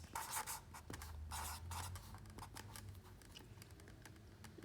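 Pen writing on paper for a math problem, quiet scratchy strokes in short bursts with small pauses, close and soft with no talk.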